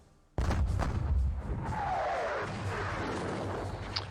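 Heavy artillery guns in a Napoleonic battle video game fire with a sudden loud boom, followed by a long rumbling, crackling roll of cannon fire that slowly settles.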